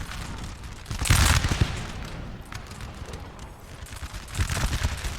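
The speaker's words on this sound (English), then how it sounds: "You can see them all sitting there firing." Massed musket volleys from line infantry in the Napoleonic: Total War 3 video game, a 4v4 multiplayer line battle, crackling as a loud ragged burst early on, then scattered shots, and a second rolling volley near the end.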